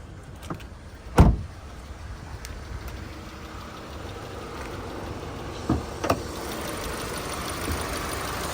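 A 2020 Kia Cerato S sedan idling with the bonnet open, a steady low engine hum running throughout with a few brief clicks and thumps nearby, no talking.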